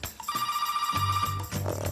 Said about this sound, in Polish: Odbiorę telefon